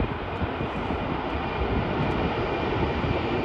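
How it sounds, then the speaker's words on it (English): Jet airliners landing on runway 22 at Minneapolis–St. Paul airport on a very windy day give a steady, even roar with no breaks or distinct events throughout. "Bunch of planes coming in."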